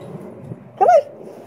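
A dog outdoors playing with a garden hose lets out one short, high whimpering yelp close by, standing out briefly against a quiet background.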